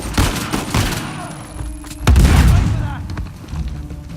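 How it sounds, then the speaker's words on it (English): A grenade explodes in the video game Uncharted: The Lost Legacy, a heavy boom at the two-second mark that rolls into a low rumble, with gunfire cracks before and after and someone talking over the action. "Grenade outgoing!"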